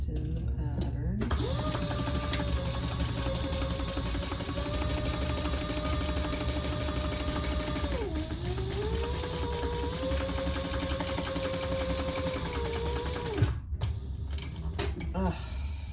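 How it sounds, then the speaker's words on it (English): A sewing machine running a long seam on a fabric bag: a steady motor whir and rapid needle patter with gliding pitch shifts as the speed changes, under a person talking, stopping near the end. "we're going to sew that together at the seam allowance in the pattern"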